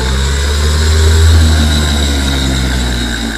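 A starter generator powered on 12 volts spins with a steady, loud motor whine and hum that eases slightly as it begins winding down, heard alone without talk.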